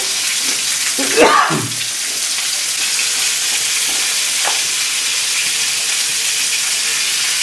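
Raw pumpkin pieces fry in a hot wok with a loud, steady hiss and crackle throughout, with a brief burst of sharper sizzle and clatter near the start as the pumpkin goes in.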